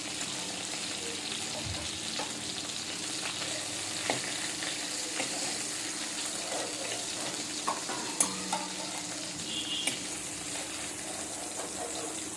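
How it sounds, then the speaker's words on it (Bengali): Tangra fish fry in hot oil with a steady, dense sizzle that runs throughout, with a few soft clicks and pops from the pan. The sound is close and continuous, and no one speaks. "দেখো মাছগুলো আমার ভাজা হয়ে গেছে"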